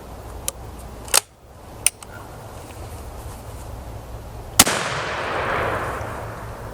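A 12 gauge shotgun fires birdshot in a few sharp, loud reports, the last one followed by a trailing outdoor echo and rumble.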